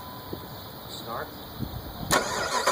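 A 2003 Jeep Grand Cherokee Overland with the 4.7-liter high-output V8 starts during a fuel rail pressure check, a sudden close, loud crank-and-catch burst near the end after quiet background rumble.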